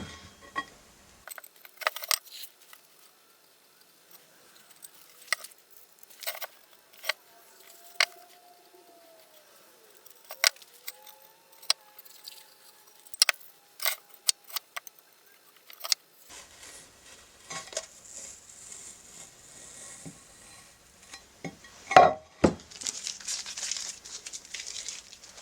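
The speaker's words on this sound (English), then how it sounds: "I'll start by taking the tape off." Masking tape is peeled and pulled off a sandcarved piece, giving scattered crinkles, ticks and short rips over about 25 seconds, close and dry, busier and noisier toward the end, with no voices.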